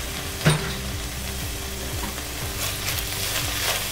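Sliced onions sauté in a Dutch oven with a continuous close sizzle and rhythmic scraping as they are stirred, plus one brief clatter early on. No voices.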